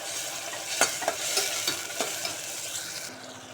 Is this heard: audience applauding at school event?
no